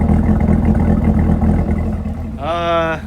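A Chevrolet Camaro ZL1 with an LT4 V8 idles in a deep, loud, close rumble, then a rising whine swells near the end.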